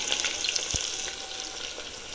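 Chopped onions sizzle steadily in hot oil in a pan for mutton korma pulao, a close, continuous frying hiss with a faint stir scrape and no talk.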